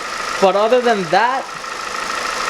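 A Toyota 1ZZ-FE engine idles after a misfire repair, a steady mid-range hum that runs throughout while someone speaks briefly over it near the start.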